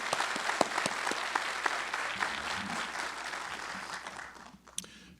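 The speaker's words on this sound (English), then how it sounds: "round of applause" An indoor audience at a signing day event gives sustained applause for a Navy Honor Guard team from the USS Constitution, dense steady clapping that fades out near the end.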